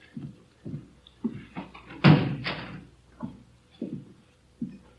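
A single door shuts in an office with a solid close, heard once midway between sparse footsteps or knocks in a quiet room.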